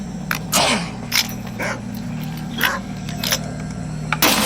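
Game dog from S.T.A.L.K.E.R. Anomaly, heard as several short, sharp barks and yelps at irregular intervals over a steady low ambient hum, fairly close and moderately loud.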